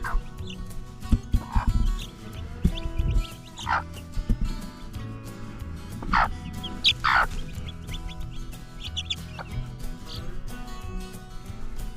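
Chickens clucking and squawking at close range, with scattered calls rising over a busy, cluttered farmyard background.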